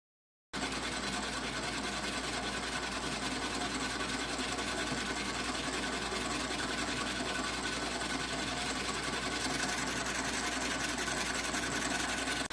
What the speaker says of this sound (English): Building a resonant pulse motor.